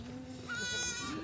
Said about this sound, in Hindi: और ये बकरी है।